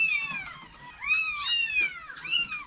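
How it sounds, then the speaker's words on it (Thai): A kitten in a Thai mystery game meows three times in quick succession, high and close, with short rising-and-falling cries and no talking. "แล้วลูกแมวตรงไหน"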